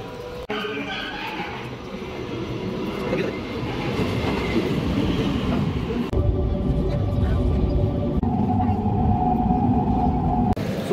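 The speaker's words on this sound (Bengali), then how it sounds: "সো আমাদের ট্রেন চলে এসছে" A train rolls into a Kolkata station, with a loud, steady rumble of railcars, clattering wheels and a rising tonal whine as it draws in, and a voice talks over it early on.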